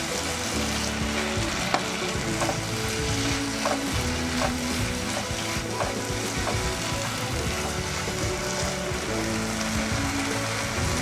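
Chopped tomatoes and fresh coriander fry and get stirred in a pan for Dhaba-style matar paneer, a steady close sizzle with repeated scraping and clinking stirs throughout, no talk.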